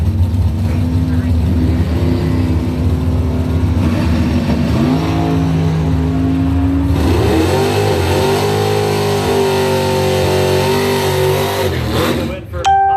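A 1975 Chevelle in Pro Trophy bracket drag racing revs loudly, then launches and accelerates hard down the track with rising engine tone, an announcer talking over the roar.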